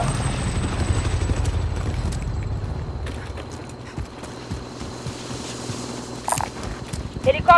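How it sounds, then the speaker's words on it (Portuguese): An enemy helicopter in the Warzone battle royale game, a low rotor rumble that fades over the first seconds, followed by scattered footsteps, mechanical clicks and game effects. "Helicóptero inimigo."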